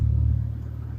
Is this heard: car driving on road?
yes